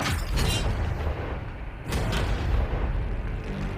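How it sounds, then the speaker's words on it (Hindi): Tank cannons fire at targets, heard as a heavy boom that rolls into a long rumbling roar, then a second deep blast near the middle, with a creaking, mechanical low rumble continuing throughout and no speech. "ये 5 टैंक्स पैसों पर निशाना लगाकर 20 राउंड्स फायर करने वाले हैं"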